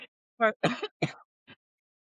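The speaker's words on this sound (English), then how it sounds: "She apparently is having a coughing fit." A short burst of harsh coughs and throat-clearing, four or five rough hacks in quick succession, close to the mic, then quiet.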